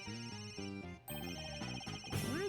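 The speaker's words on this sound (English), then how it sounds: "Where is that ringing coming from?" A cell phone rings in the Ace Attorney video game, a repeating electronic melodic ringtone of stepped tones mixed with game music, fairly quiet overall, with no speech.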